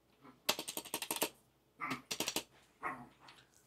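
Typing on a Langtu L102 full-size, tri-mode membrane keyboard comes in three close-up bursts of rapid, soft keystrokes separated by short pauses, with no talking over them.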